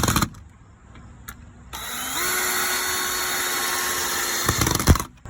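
A power drill drives screws home into an end-grain wooden axe-throwing target, with a steady whining run of about three seconds that ends in a brief clunk as the screw seats, heard up close without talking.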